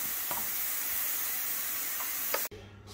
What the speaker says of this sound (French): je fais revenir ça 4-5 minutes et on se retrouve tout de suite